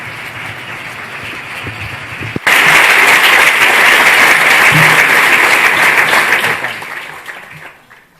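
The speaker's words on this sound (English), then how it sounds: "I would like all of you to give him a big applause for his work" Audience applause welcoming a speaker at a conference, starting with a quiet murmur, then bursting into loud, dense clapping from many people that holds for several seconds before tapering off toward the end.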